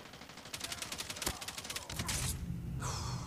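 Rapid bursts of suppressed gunfire in Call of Duty Mobile crackle in quick succession over a low rumbling background, then give way to a steady noisy roar.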